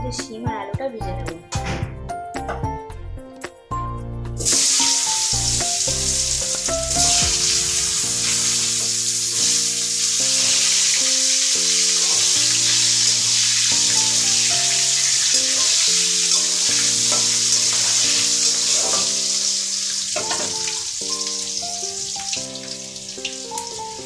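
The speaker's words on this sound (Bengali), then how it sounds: "এই তেলের মধ্যে শিম আর আলুটা ভেজে নেব।" Flat beans and potatoes hiss and sizzle loudly in oil left from frying tilapia, a sustained crackling fry that follows a few seconds of music, with faint music running underneath.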